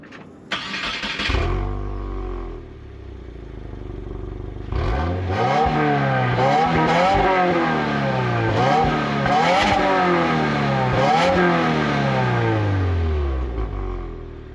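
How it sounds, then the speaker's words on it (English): A 2022 Subaru WRX Limited boxer engine cranks and catches with a brief burst, falls quiet, then is revved repeatedly in quick throttle blips, each rising and falling pitch sweep loud and close. "let's go ahead and fire up this engine so you can hear what it sounds like"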